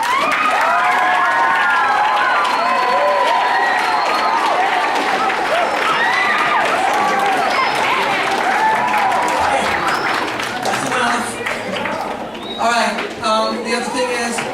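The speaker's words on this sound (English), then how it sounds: "Kids, clap for your parents" Schoolchildren at a school band concert applaud their parents, a loud, dense burst of clapping with cheers and shouts that carries on for many seconds before thinning out near the end, with voices mixed in.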